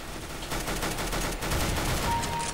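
Gunfire in Counter-Strike: Global Offensive, a burst of rapid, loud in-game shots that fills the short stretch without pause.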